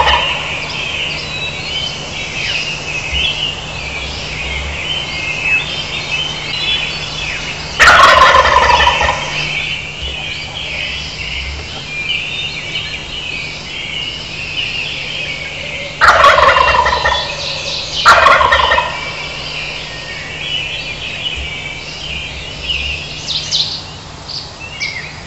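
Wild turkey gobbler gobbling in the dark, three loud rattling gobbles spaced several seconds apart over a steady bed of dawn birdsong and insect-like hiss.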